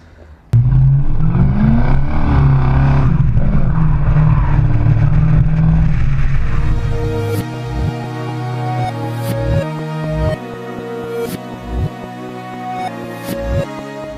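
A six-liter Mercedes-AMG engine roars loudly at first, then drops into a throaty idle punctuated by several sharp revs of the throttle.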